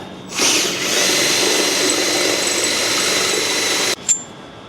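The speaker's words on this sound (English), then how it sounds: "Now I'm stepping up to a 1/2 inch bit. We're gonna drill it from both sides again." A power drill with a half-inch bit runs steadily at full speed for several seconds, loud and close, then cuts off with a brief whir as it stops.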